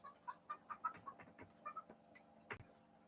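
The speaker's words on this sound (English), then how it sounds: "my chickens are making a lot of noise" Several chickens cluck in short, uneven bursts at close range, with a sharper squawk near the end, heard over a quiet background.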